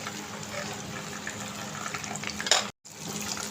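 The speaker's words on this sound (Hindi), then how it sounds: "ये खड़े मसाले हम इसमें ऐड कर देते हैं। बिस्मिल्लाहिर्रहमानिर्रहीम। इन्हें बस आधे मिनट के लिए इन्हें फ्राई कर लेते हैं।" Whole spices sizzle in hot oil for Karachi biryani, a steady close frying hiss with faint crackles that cuts out abruptly near the end, then resumes.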